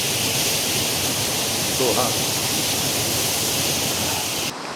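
Stream water flowing across a hiking trail, a constant loud rush close by with a brief spoken word over it, cutting off abruptly near the end.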